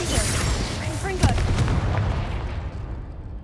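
Blasting-spell explosion in the Hogwarts Legacy video game, a sharp burst near the middle cutting through busy game noise and other spell effects, with a low rumble underneath.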